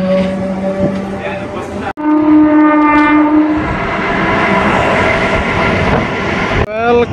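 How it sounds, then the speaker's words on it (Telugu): A train pulls out of Nellore station in India, loud and close, with a sustained horn blast, tonal whine and rumbling wheel noise throughout, and a second horn note near the end; a voice speaks briefly. "నెల్లూరు నుండి అయితే డిపార్ట్ అయిపోతుందండి మన ట్రైన్ అయితే."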